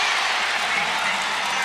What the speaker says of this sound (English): the crowd knows that you hear them get involved, and this is the loudest it's been in here